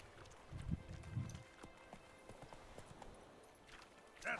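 Horse hooves clip-clop in The Witcher video game, a few heavy thuds up front followed by lighter steady steps at moderate distance, with faint game ambience behind.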